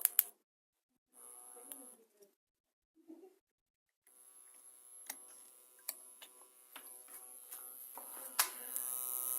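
A homemade household inverter without sine-wave output gives a harsh electrical buzz with scattered ticks and crackles, rising after a few quiet bursts and growing steadily louder and more persistent toward the end.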